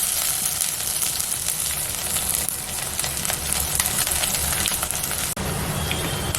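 Finely chopped ginger hits hot oil already crackling with mustard seeds and curry leaves, giving a steady, close, dense sizzle that runs unbroken throughout with no talking.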